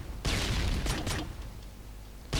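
Grenade launcher blasts from a video game burst out in loud, dense booms, first a long rumbling barrage, then a second hit, and another blast at the very end.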